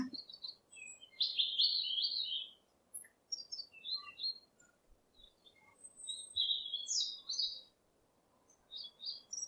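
Sparrows chirping: bright, quick bursts of small-bird tweets repeat in short clusters over a faint, steady background hiss.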